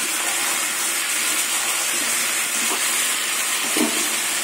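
Vegetables frying with ginger in a pan hiss loudly as a small splash of water hits the hot oil, a sustained steamy sizzle with a few faint clinks near the end.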